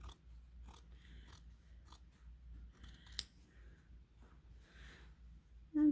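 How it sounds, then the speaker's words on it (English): Fabric shears snip through folded fabric in several crisp, close cuts spaced irregularly over a quiet background, with one sharper snip standing out near the middle. "I'm just letting my fabric shears do the work."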